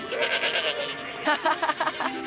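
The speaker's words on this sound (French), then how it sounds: "Un simple bêlement de chèvre." A goat bleating in a cartoon scene, several short wavering cries close by and loud, the last ones quick and choppy, with no speech over them.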